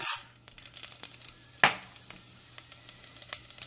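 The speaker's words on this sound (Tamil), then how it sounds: "அதில் தாளிக்கு இதெல்லாம் போட்டுக்கலாம். கடுகு, உளுத்தம்பருப்பு, கடலைப்பருப்பு," Mustard seeds, urad dal and chana dal dropped into hot oil for tempering, giving a faint crackling sizzle with scattered pops and one sharp clink of a pan partway through.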